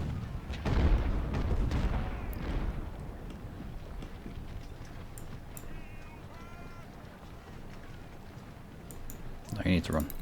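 Civil War cannon fire in the strategy game Ultimate General: Civil War: a deep rumbling artillery barrage at the start, then quieter battle ambience and another burst near the end, with someone talking throughout.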